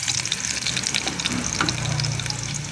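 Garlic sizzles in hot oil in a pan as the base for an eggplant stir fry, a steady crackling fry with faint clinks of stirring throughout, close and fairly loud with no voices.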